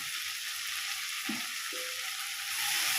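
Ginger paste frying in a pan sizzles steadily as it is stirred, with a couple of faint scraping touches from the spoon and the hiss growing slightly louder toward the end.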